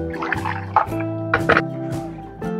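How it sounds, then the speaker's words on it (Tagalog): Hot water is poured into a pan of simmering pork menudo. Close, loud splashing and dripping bursts sound over a steady humming background. "Lagyan pa natin ito ng mga kalahating tubig na"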